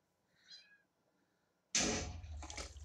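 An ocelot in a video game gives a soft, faint meow, followed by a sudden loud burst of splashing or rushing noise that covers the rest of the moment.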